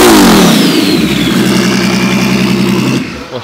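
A twin-turbo Ferrari F12 engine revs hard and loud up close, holding a high droning pitch before easing off and dropping away at the end.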